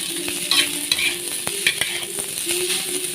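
Fried rice with salted mackerel sizzles steadily in a hot wok while a utensil scrapes and taps against the pan in quick, irregular strokes.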